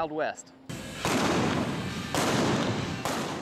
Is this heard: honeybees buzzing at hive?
no